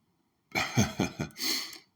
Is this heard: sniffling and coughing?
yes